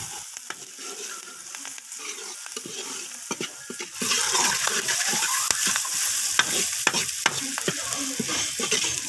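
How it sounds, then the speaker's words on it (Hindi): Samosa potato filling with coriander powder and crushed red chilli stirred in a hot pan, a loud continuous sizzle with repeated scraping strokes of the spoon, close up and growing louder midway. "तमाम चीज़ों को अच्छी तरह से मिक्स करेंगे और पका लेंगे"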